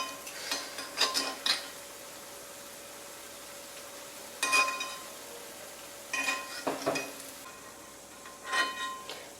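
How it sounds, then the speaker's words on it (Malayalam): Metal slotted spoon scraping and clinking against an unniyappam pan while lifting fried jackfruit unniyappam out of hot oil, a few short clattering bursts spaced apart over a faint steady sizzle. "നമുക്ക് ഇനി ഇത് പതുക്കെ കോരിയത് ഈ നമ്മുടെ എണ്ണ പോകാനായിട്ട് ഇതിലോട്ടങ്ങ് കോരിയിട്ട് കൊടുക്കാം."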